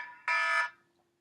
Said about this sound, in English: that's my backup alarm